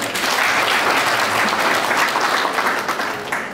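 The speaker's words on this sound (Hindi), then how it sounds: "अपने बच्चों के लिए एक बार जोरदार ताली हो।" An audience of parents applauding students at a school event in Supaul, a loud sustained wash of clapping that stays full for most of the clip before easing off slightly at the end.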